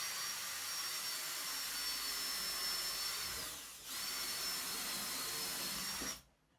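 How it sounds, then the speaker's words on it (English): A power drill drives a screw into the corner of a wooden crosscut sled, its steady high motor whine running continuously, dipping briefly mid-way before resuming and then stopping. "I'm driving in a screw in one corner."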